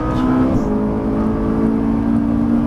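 A Ferrari F430 engine revs up and accelerates hard out of a track corner, a steady loud mechanical roar with rising pitch, close by and continuous throughout.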